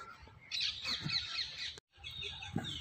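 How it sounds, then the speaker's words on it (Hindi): Birds calling in Sunder Nursery, a park in Delhi, with harsh crow-like caws and chirps repeating over quiet outdoor ambience, fairly near. "यहाँ पे आपको चिड़ियों की चहचहाट सुनाई देगी"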